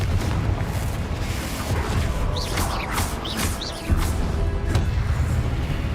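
Confringo spell blasts in Hogwarts Legacy: continuous loud rumbling booms with crackling bursts and whooshing sweeps, dense and sustained throughout.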